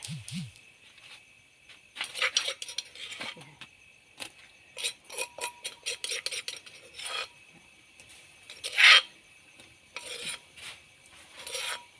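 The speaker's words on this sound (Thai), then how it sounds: "วนไปเรื่อย ๆจนกว่าข้าวจะสุกนะคะ" A pot of soaked, pounded rice and water cooked into a rice porridge is stirred, giving irregular scraping and rasping strokes with brief pauses, close and moderately loud, plus a sharp metallic clink.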